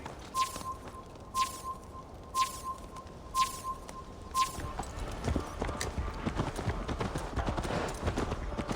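Horse hooves in the Assassin's Creed Valhalla video game beat out a steady, evenly spaced clopping for several seconds, then give way to a denser, louder rush of movement noise.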